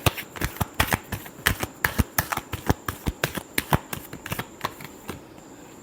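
Tarot cards are shuffled close by in a rapid run of crisp riffling slaps, about a dozen quick bursts in a steady rhythm with no talking.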